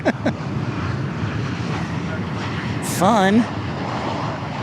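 At DFW Airport, a departing airliner's jet roar fills the air as a broad, loud, steady rush, with wind noise and a brief spoken word partway through.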